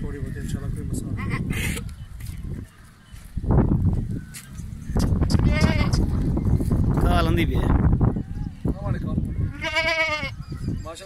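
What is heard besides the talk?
goat bleating on a goat farm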